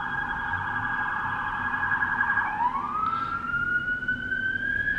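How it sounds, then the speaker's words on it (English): An emergency vehicle siren in New York wails steadily, then drops in pitch and settles into a long sustained tone, loud and fairly close, with no talking. "I don't understand the sirens in New York either"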